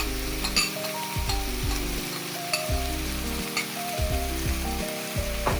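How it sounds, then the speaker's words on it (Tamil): Ginger and garlic fry in a pan with onions and are stirred, hissing in a steady close sizzle broken by repeated scraping strokes of a spoon. No one speaks. "இப்போ இஞ்சி பூண்டு போட்டுக்கலாம்."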